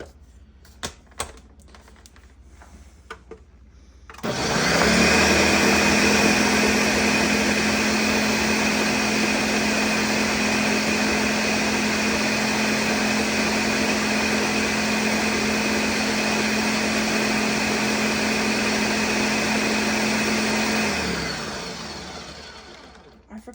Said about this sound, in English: now we're gonna blend that again